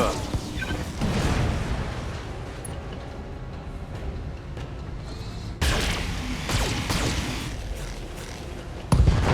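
Mech weapons fire and heavy explosions in the BattleTech game, a Catapult and Jagermech in battle, loud booming blasts rolling one after another with a sharp new burst midway and another at the end.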